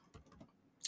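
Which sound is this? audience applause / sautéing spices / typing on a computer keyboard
typing on a computer keyboard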